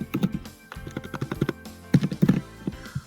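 Irregular clicks of keys being tapped on a computer keyboard, close and fairly quiet, coming in short uneven bursts.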